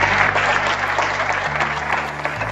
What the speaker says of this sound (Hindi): चलिए एक नए साथियों के लिए जोरदार तालियां।